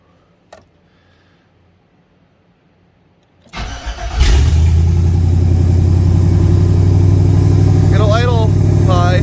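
A car engine cranks and fires after a quiet pause, then settles into a loud, steady high idle close by, with a few brief squeaky sounds near the end.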